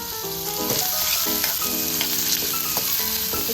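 Finely chopped onion fries in a ladleful of hot oil, a loud close sizzle and crackle with faint tonal hums running beneath, steady throughout.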